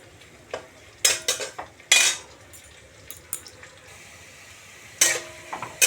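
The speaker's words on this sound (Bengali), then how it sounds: "এইদিকে ঝুরঝুরে আলু ভাজা হচ্ছে," Finely cut potatoes frying in a pan are stirred, with sharp scraping clinks of a utensil against the metal in irregular bursts over a faint background sizzle.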